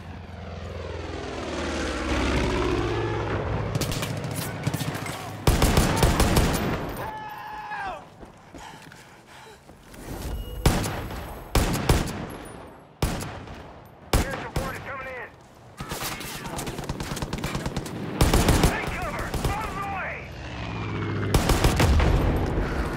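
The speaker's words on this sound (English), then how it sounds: "Addie's got her chopper all fired up." Helicopter rotor and engine drone in Far Cry 5 with bursts of automatic gunfire and loud impacts scattered throughout, dense and busy game combat mix.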